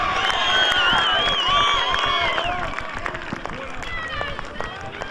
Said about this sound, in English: very excited crowd. very excited Research team too.